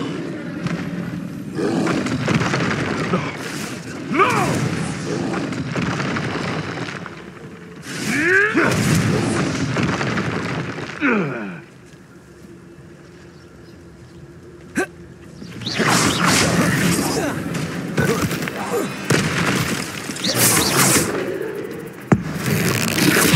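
Spell explosions going off in a Harry Potter video game: loud roaring, crackling blasts in several bursts, with a quieter lull in the middle before a dense run of bangs and a sharp crack near the end.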